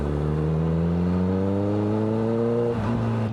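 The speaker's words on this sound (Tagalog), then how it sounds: "nakakaganda sa inline 4. Paka-smooth na makina." A 1000cc inline-four superbike engine runs steadily and loud, its smooth harmonic drone holding a constant pitch before a brief dip in revs near the end, with no talking.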